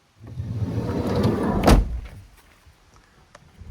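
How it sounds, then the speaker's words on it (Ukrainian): A single solid slam of a 2012 Opel Vivaro van door lands midway, a sharp thud with a brief metallic ring, preceded by low rumbling noise and followed by quiet. "Дверки закриваються чудово"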